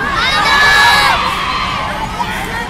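A crowd of fans, including children, shouts and cheers loudly at a street parade in the Philippines, a continuous dense roar of high-pitched voices close by.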